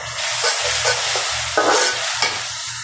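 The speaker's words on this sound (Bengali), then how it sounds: "এলাচি, দারচিনি, তেজপাতা দিয়ে দিলাম পেঁয়াজের সাথে।" Cardamom, cinnamon and bay leaf fry with chopped onions in a kadai for a chicken curry, a close steady sizzle broken by several bursts of stirring and scraping.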